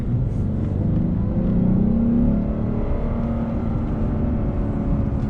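A 2015 Lexus RC 350 F Sport's engine idles steadily nearby, its low rumble rising briefly in a light rev before settling back.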